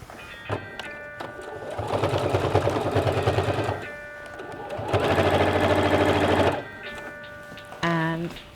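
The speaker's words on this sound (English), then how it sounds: "I'm going to do a little extra back stitch when I start, because we want this to be really strong and secure." A sewing machine back stitching a dungarees seam through thick fabric layers, two loud steady runs of rapid needle chatter with pauses between, a voice speaking briefly near the end.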